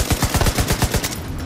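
Rapid burst of MK-17 rifle fire in The Division 2, about ten close, loud shots in quick even succession before cutting off.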